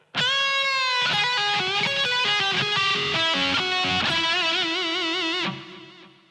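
Distorted electric guitar slowly playing a solo lick, sustained bent and held notes in a steady, loud phrase played alone before fading out.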